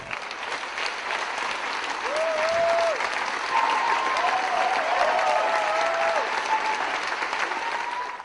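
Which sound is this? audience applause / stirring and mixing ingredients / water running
audience applause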